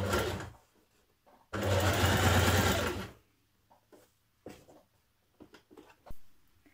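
A sewing machine stitches a blouse in close, steady bursts, a short run and then a longer one of about two seconds, with light handling clicks in the quiet gaps and no speech.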